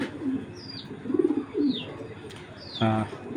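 Young female racing pigeons coo softly and repeatedly at close range, with a few chirps and a brief fuller coo near the end.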